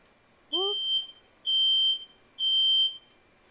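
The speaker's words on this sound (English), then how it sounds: "Pardon me while the smoke detector goes off." A smoke detector sounds three loud, evenly spaced high-pitched beeps, each about half a second long, in an otherwise quiet room.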